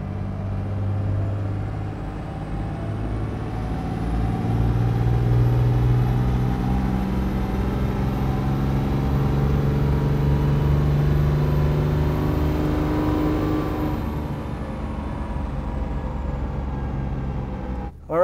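A diesel truck engine with EFI Live timing tunes revs hard on a dyno, a loud, continuous roar that climbs steadily in pitch for about fifteen seconds before easing off.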